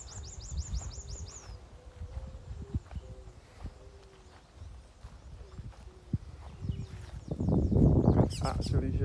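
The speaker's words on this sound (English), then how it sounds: "You can actually hear the birds." Birds chirp in quick repeated trills early on in Three Houses Park, St. Philip, Barbados, with more chirping scattered throughout over rhythmic clip-clopping hooves and a louder rustling burst near the end.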